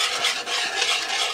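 A whisk stirs a thickening mixture in a pan over low heat, making a steady, close scraping and swishing that runs without a break and is heard alone.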